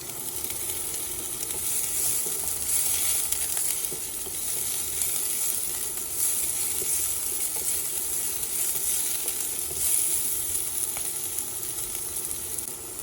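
Garlic fries in a pan, giving a steady, close, hissing sizzle that holds evenly for the whole stretch with no talking.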